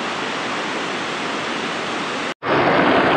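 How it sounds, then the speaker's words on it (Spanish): River water pours steadily into a pool in a Costa Rican spring-fed river, a loud, continuous broadband rush that briefly cuts out and resumes slightly stronger. "vean ese caudal."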